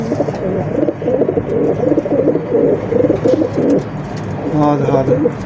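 Racing pigeons coo in a loft with low, throaty rolling calls, overlapping and close, while a person talks over the birds.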